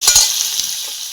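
Garlic paste dropped into hot oil in a pot over a village wood-fired stove, a sudden loud sizzle that bursts in and then settles into a steady crackle.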